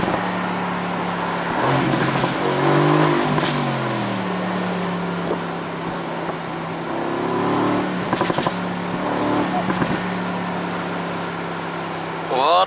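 A 2017 Mercedes-AMG GT C Roadster engine rises through several loud, rising revs and pulls with a couple of sharp bursts, heard close while someone talks excitedly over it.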